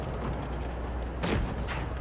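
A tank cannon fires in a tank video game, one sharp loud blast with a quick decay followed by a fainter echoing report, heard over a steady engine rumble.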